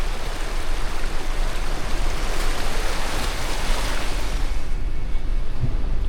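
A 4WD vehicle pushes through a shallow, clear river crossing, producing a steady, loud rush and churn of splashing water that continues unbroken throughout, with no voices.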